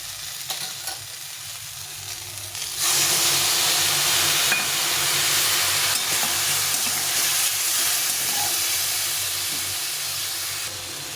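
Mixed vegetables frying with spices in a pan give a steady hissing sizzle that jumps louder after a few seconds and stays strong and continuous, with faint stirring beneath.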